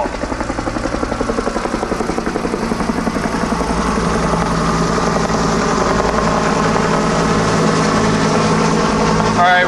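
A helicopter's rotor thumps in a fast, steady beat with a loud engine whine, close and continuous throughout, as it sets down at a cleared landing zone.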